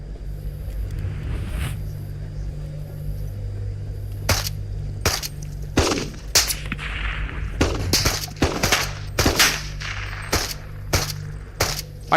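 Gunshots from a firearm in the VR shooter Into the Radius, with about a dozen sharp, irregularly spaced cracks starting a few seconds in, over a steady low engine-like hum and no talking.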